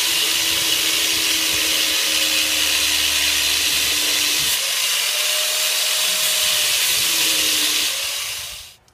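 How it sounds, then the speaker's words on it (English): An angle grinder shaves down the top of a wooden axe handle, giving a steady, loud abrasive whine with a high hiss that holds for most of the stretch, dips in pitch briefly midway, then cuts off at the end. "Now I'm gonna shave the top off of this handle with the angle grinder."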